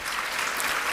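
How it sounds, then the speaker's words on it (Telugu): Audience applause for the musicians at a Christian gathering, a steady dense wash of clapping filling the room at an even level without a break. "మ్యూజిషియన్స్ కొరకు కూడా చప్పట్లు కొట్టాలి మీరు."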